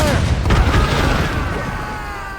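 Ship cannons firing in Assassin's Creed Rogue, a heavy booming blast with a sharp report near the start that rolls into a long, fading rumble, set against sea and ship ambience with a voice in the mix.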